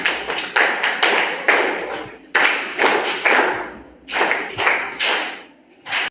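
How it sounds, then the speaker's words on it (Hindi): Schoolchildren at a primary school in Uttarakhand clap together loudly in several bursts of rapid, sharp claps, each burst fading before the next begins, close and prominent with no talking over it. "आप तालियां बजाओ सारे मिलकर जोर से"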